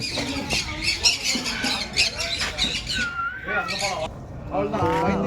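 Loud, harsh maroon-bellied conure squawks repeat in bursts, close by at Vandalur Zoo, with people chattering and calling out around them.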